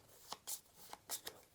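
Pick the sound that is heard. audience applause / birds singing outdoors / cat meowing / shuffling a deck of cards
shuffling a deck of cards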